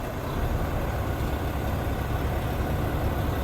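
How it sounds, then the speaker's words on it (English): A Volvo truck engine idles steadily with a low, even rumble and diesel drone, close and continuous throughout. "so we're gonna fire up our Volvo."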